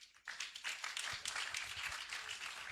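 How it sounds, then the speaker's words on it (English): A round of applause from an assembled audience at a formal ceremony, many hands clapping together in a dense, even patter that starts abruptly after a short silence and continues steadily. "Round of applause, please."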